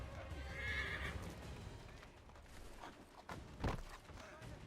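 In Assassin's Creed 3, a horse gallops with fairly quiet hoofbeats and gives a sharp neigh near the end, over low game background noise.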